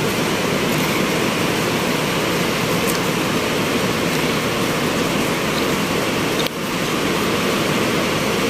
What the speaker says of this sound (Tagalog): Mas ng ulan.